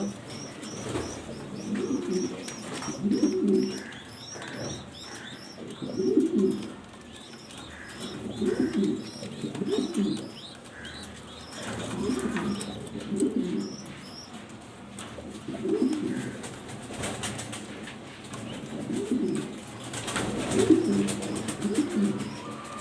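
Afsan grizzle pigeons cooing in a loft, repeated low rolling coos arriving in regular bursts every few seconds, with faint chirps and background noise between them.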